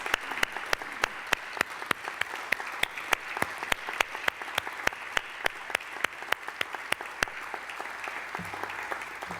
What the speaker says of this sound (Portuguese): Dr. António Amorim, as nossas palmas sentidas para o senhor neste momento.